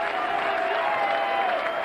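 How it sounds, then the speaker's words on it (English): A crowd gives a standing ovation at the 1997 BDO Lakeside World Darts Final, a dense sustained roar of applause, steady and loud from start to finish. "The standing, applauding."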